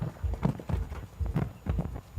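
Horse hooves striking the ground at an FEI three-star show jumping qualifier, a run of rhythmic, fairly close clip-clop thuds repeating steadily throughout, with no talk over them.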